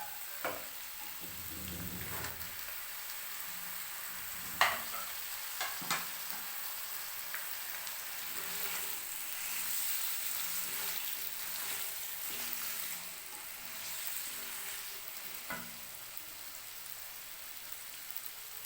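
Vegetables for a pulao sizzle and crackle as they fry in a pot, a steady hiss with a few sharp clinks and scrapes of stirring near the start and middle, no voices.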